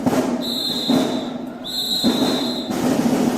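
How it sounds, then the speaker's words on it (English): High-school marching band whistles blow in two long shrill blasts over crowd and band noise, loud and outdoors. "The whistles are going. I like the whistles,"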